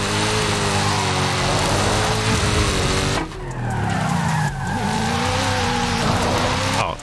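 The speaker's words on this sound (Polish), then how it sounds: "wystarczy sobie po prostu ten gaz cisnąć do końca i samochód sam wejdzie nam na obroty" A Forza Horizon 5 car engine held at full throttle, revving loudly and continuously with a harsh rising drone and tire squeal, the pitch dropping and climbing again as it shifts, with no talking.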